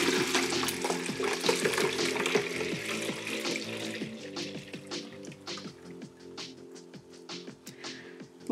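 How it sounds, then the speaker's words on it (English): Homemade kombucha pours and splashes through a strainer, a fairly quiet continuous trickle of liquid with scattered drips and small splashes, the flow easing off toward the end. "I'm gonna go ahead and strain out the yeasty bits that have accumulated"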